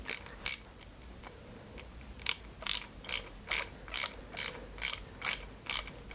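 Small screws driven into a die-cast 1961 London Routemaster RM857 bus model give a run of evenly spaced ratcheting clicks, close and crisp, after a quieter start, with no talking.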